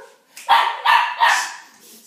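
A Labrador retriever barks three times in quick succession outdoors, each bark loud, close and sharp, with short pauses between them.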